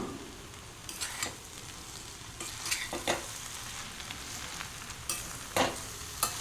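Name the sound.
stirring noodles with vegetables in frying pan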